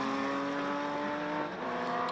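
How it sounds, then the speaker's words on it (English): A V8 Formula 5000 race car engine roaring at a steady, high drone with a strong buzzing tone at a motorsport festival, held loud throughout with a slight dip near the end. "good to see Brendan Grigiol out there in the big V8 Formula 5000 that you can hear"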